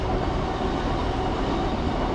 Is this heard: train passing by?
yes